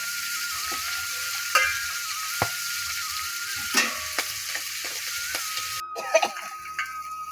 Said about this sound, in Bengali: আলুটা কষায় নিচ্ছি মশলার সঙ্গে